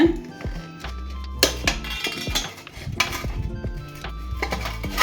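A metal tin holding a freshly baked jackfruit cake is tapped repeatedly, giving a series of close, irregular metallic clanks and clinks over faint background noise.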